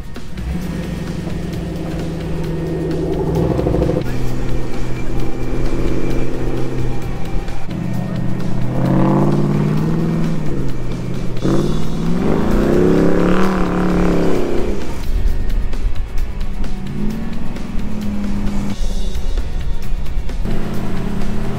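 A Chevrolet Corvair driving off road on dirt, its engine running steadily and rising in pitch as it pulls, with loud rumbling and rattling throughout and a voice speaking over it at times.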